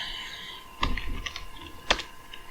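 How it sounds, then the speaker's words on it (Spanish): The Linux app Daktilo plays typewriter-style keyboard sounds: two distinct, fairly quiet key clacks about a second apart over a low background hiss. "que es una máquina de escribir pero con otro tipo de sonido"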